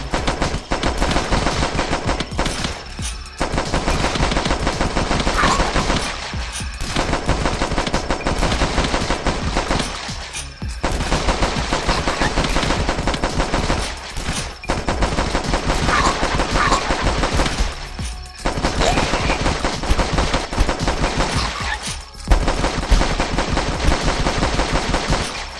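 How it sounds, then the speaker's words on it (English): Relentless rapid gunfire from pistols blasting at zombie hordes in the Flash game The Last Stand, loud and continuous in long bursts separated by brief pauses. "we can at least use 2 shitty pistols against these undead hordes"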